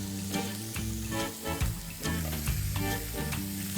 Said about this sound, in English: I'll place the steak of fish with its skin side down